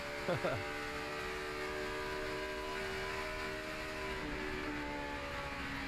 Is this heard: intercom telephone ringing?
no